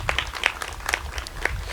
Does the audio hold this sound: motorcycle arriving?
no